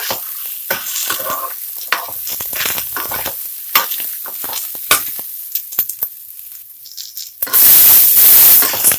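Tomatoes and ginger fry and get stirred in a hot pan, with repeated scraping and clattering strokes over a soft sizzle, ending in a louder burst of spattering sizzle.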